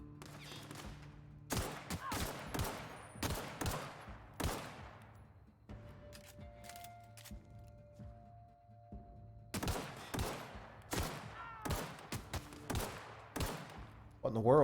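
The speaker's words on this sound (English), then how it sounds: "Someone's shooting me." Gunfire in the PC game The Outer Worlds: loud, rapid bursts of shots crackle in clusters, fall quiet for a few seconds, then resume in a second run of repeated volleys.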